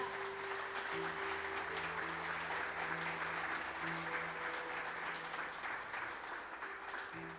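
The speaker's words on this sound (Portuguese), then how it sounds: "Aplauda o nome do Senhor, irmão." Church congregation applauding during a Pentecostal-style sermon at a Bragança Paulista church, steady continuous clapping with sustained organ or keyboard tones underneath, no talk.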